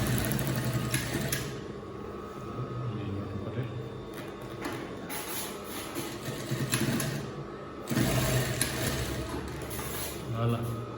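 A sewing machine stitches a corner seam on a dress, a steady mechanical whir running almost continuously with slight surges, close by and moderately loud.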